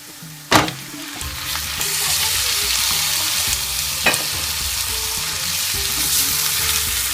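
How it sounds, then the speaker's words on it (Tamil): Mutton pieces drop into a pan of well-sautéed onions for a mutton uppu kari varuval, starting a loud, steady sizzle with a sharp knock of the meat landing and another clunk midway. "நாம் இப்போது மட்டனை சேர்த்துடலாம்."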